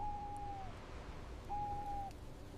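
A brown-winged kingfisher calls along a narrow mangrove creek: two long, steady whistled notes separated by a short pause, clear over a soft background hiss.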